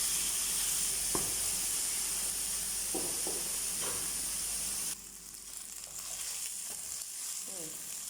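Breakfast food sizzles and fries steadily in a hot pan, a continuous hiss with a few soft stirring scrapes and clicks over it; the sizzle drops slightly partway through, then carries on.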